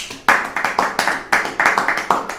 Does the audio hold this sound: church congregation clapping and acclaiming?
yes